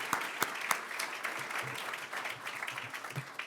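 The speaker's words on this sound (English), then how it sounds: "Let's give Don and the TechBridge team a round of applause" Audience applause for Don and the TechBridge team at a leadership conference keynote, steady moderate clapping from a room of people with a few sharper claps standing out.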